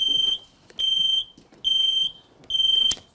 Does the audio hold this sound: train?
no